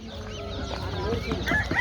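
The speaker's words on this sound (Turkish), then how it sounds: "Bunlar da tavuklar." Chickens cluck and squawk among the stalls of a poultry market in Çubuk, Ankara, several birds calling close by in short, overlapping bursts.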